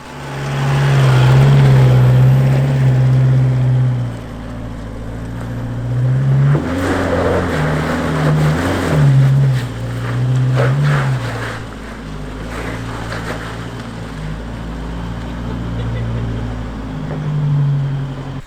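A 4x4 climbs a sandstone ledge on the Ben Bullen Trail near Lithgow in the Blue Mountains, its engine droning low and steady, surging and easing as it works up the rock, with wind noise over it.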